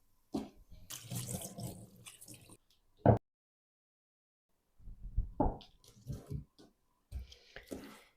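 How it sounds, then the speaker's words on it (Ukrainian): Tap water runs in short bursts as fish is rinsed under a faucet, with splashing and pauses in between, quiet and close. "і залишилось промити рибу під проточною водичкою"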